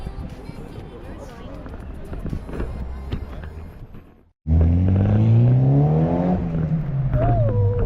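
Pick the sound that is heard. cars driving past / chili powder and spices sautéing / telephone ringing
cars driving past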